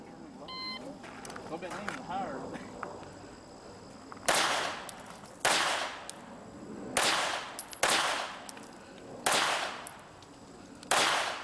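Pistol shots from competitors on an IDPA match stage at Mecklenburg Wildlife Club, about seven loud, sharp cracks in an irregular string after a quieter start with faint beeps and background murmur.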